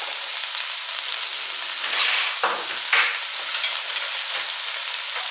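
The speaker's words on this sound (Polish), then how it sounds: "I teraz to mięsko podsmażam." Meat for homemade spring rolls fries over fairly high heat in a pan, a loud, dense, continuous sizzle with brief swells as it is stirred, close up and without talk.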